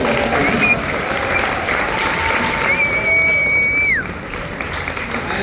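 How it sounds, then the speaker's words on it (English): An audience at the TAA Annual Gala 2023 claps in steady, sustained applause that fills the room and eases slightly toward the end, with a faint tonal sound over it. "Give him a round of applause, please."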